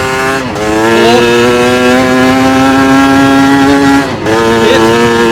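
A Chinese dirt bike engine accelerating hard through the gears, loud and close, with a rising whine, one brief dip for a shift early on and another shift near the end.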